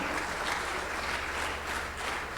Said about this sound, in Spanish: Dale otro aplauso de exaltación al Señor